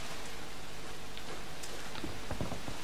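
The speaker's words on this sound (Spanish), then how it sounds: "Ahora se pone a llover." Steady rain hiss begins in the Dead Island Riptide video game, a dense constant wash of falling drops with a few sharper patters near the end and no voices.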